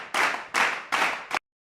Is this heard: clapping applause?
yes